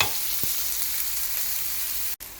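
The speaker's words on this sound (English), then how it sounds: "We're going to chuck the onions in there and let that cook for about a minute." Onions sizzle steadily while frying in a pan for vegan palak paneer, a continuous close hiss with faint stirring ticks and a brief dropout near the end.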